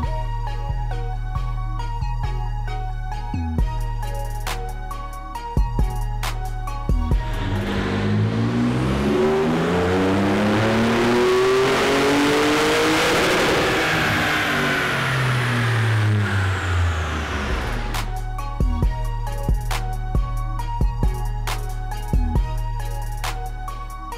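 A Ford F-150 engine running on E85 flex fuel revs hard during dyno pulls, a loud, close roar that sweeps up in pitch and falls back, with idling and clunks before and after, no talking.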